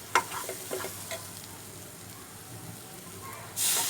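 Ingredients for a ginger broth sizzle softly in a pan, with a few sharp stirring clatters near the start and a brief louder burst of sizzling at the end.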